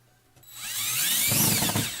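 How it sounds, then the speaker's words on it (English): Power drill pre-drilling holes into very hard old wood while bathroom light fixtures are installed: a short rising whine with a fast rattling bite into the wood, close and loud, with no talk. "So sometimes you have to actually pre-drill these holes."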